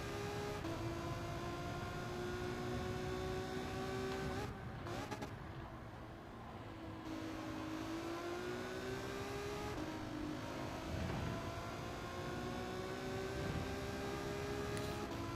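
A race car engine at the Sardegna circuit in a racing video game holds a steady, loud drone with shifting pitch as it changes gear and revs, broken by a short dip in the middle while a voice speaks over it.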